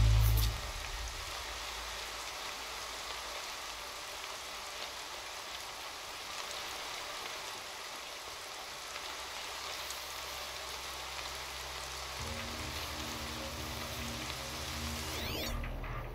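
Rain pours in the game Horizon Zero Dawn, a continuous broad hiss at moderate level that holds for the whole stretch, with a faint low hum joining near the end.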